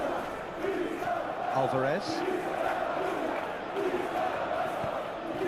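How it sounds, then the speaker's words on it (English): A steady stadium crowd roar from a PS3 football video game runs throughout under a commentator's voice, with faint swelling cheers and whistles rising briefly. "Crowd appreciates good football all round there"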